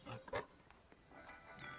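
A pig-unicorn creature in the Roblox game Animal Tycoon gives a few short, faint grunting oinks close by, followed by quiet ambient sound.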